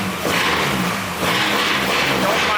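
A swapped V6 in a 240 hatch idles with no muffler and a freshly welded cracked manifold, giving a loud, raw, steady exhaust drone up close with a slight surge partway through.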